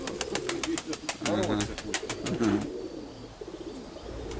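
Two pigeons coo in low, rolling throaty calls close by, while a person talks over a faint background hum and a run of rapid clicks.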